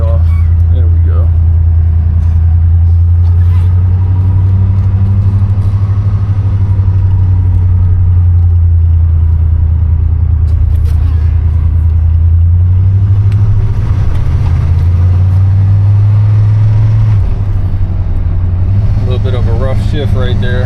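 A 1988 Chevrolet Monte Carlo SS engine idles slightly high, a steady low rumble running close and loud throughout, with a voice talking over it.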